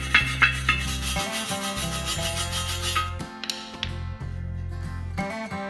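A flathead screwdriver scrapes foam residue off a steel tractor tire rim, a close, steady rasping rub over a constant low mechanical hum, with a few sharper scraping bursts near the end.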